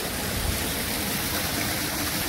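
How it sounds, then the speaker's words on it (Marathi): Water pours from a drain by a deep pool at night in heavy rain, a dense, continuous rushing close by with no pause. "इकडनं नाल्यातनं पाणी पडतंय."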